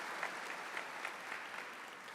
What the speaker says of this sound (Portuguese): Vamos aplaudir nosso Senhor Jesus Cristo